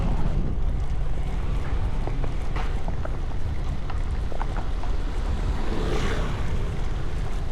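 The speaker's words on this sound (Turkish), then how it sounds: "Rüzgar da var ha" Steady outdoor wind noise buffeting the microphone in Marmaris in winter, with a broad low rumble and surf-like wash running continuously throughout.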